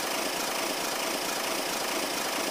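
F5 car engine in a video game, running as a steady, even engine drone with a dense, unbroken hum and no talk.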